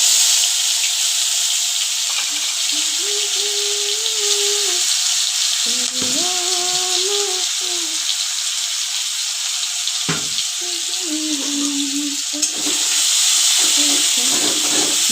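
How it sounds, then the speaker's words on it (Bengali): Bay leaves drop into hot oil and give a steady, loud, close sizzle that hisses throughout while someone talks over it. "এই যে তেলের মধ্যে তেজপাতা দিয়ে দিচ্ছি"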